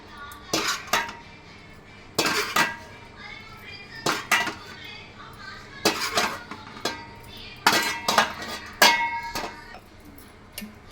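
Chicken pieces being lifted from a pan into a separate bowl while making Telangana-style chicken pickle at home, giving scattered clinks and scrapes of a spoon on metal dishes in short irregular clusters, fairly close.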